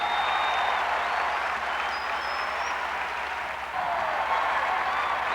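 A large church congregation claps steadily and loudly during worship, a sustained wash of applause with a brief dip near the end.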